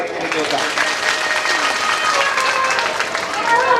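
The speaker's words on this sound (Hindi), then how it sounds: "एक बार ताली बजा दो" A crowd claps together at a village Bhagwat Katha religious gathering, a loud, continuous wash of hands with speech mixed in under it.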